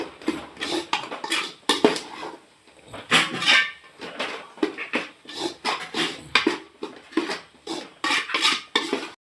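A spoon clatters and scrapes against a metal pan while turmeric, coriander and chili powder are stirred for chicken cutlet, a quick, continuous run of close metallic knocks and rattles with no voices.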